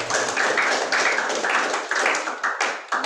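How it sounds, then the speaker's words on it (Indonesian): A church congregation at a prison service on Nusakambangan claps in unison, a steady series of sharp, full handclaps filling the room. "Tepuk tangan dulu buat Tuhan Yesus."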